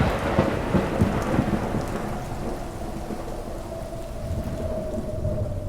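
A nighttime thunderstorm with heavy rain pouring steadily and low thunder rumbling through it, loudest at the start and then settling into a constant wash of rain, with no voices.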